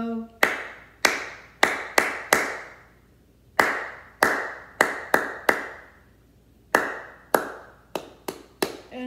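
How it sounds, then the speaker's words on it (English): Children clap in unison along to the Bingo song during a preschool storytime, sharp claps in short rhythmic bursts of three to five separated by brief pauses, fairly close and loud with faint singing between. "So this time, we're not going to say any letters at all. We're just going to clap."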